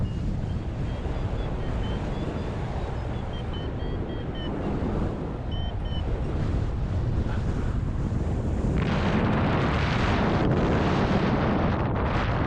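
Roaring wind rushes past a microphone while airborne, a steady broadband buffeting that swells louder and harsher toward the end, with no voices.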